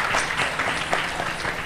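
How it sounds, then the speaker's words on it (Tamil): An audience at an adults' song and dance competition applauds the dancers, a short, dense burst of clapping from many hands with no voices. "எல்லாருக்கும் ஒரு பரத்த கைத்தட்டல் கொடுத்துருங்க"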